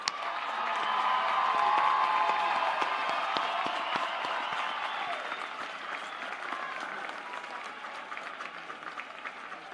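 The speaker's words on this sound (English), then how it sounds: "Please congratulate the graduates with a well-deserved round of applause." A large crowd at a college commencement ceremony applauds the graduates, loud sustained clapping that peaks early and slowly thins over about ten seconds, with scattered cheers in the mix.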